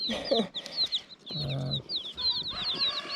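Dense high-pitched peeping of young chicks, including silver gray Dorkings, in a brooder, many overlapping chirps with some lower rustling and clucking in the background.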